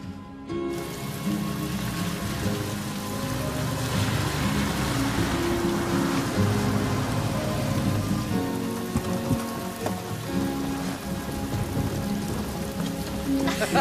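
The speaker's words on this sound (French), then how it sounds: "Ah, il pleut des cordes aujourd'hui." Heavy rain pours steadily in Colorado in spring, a dense continuous hiss of drops striking surfaces, loud and unbroken, with faint low rumbling underneath and no voices.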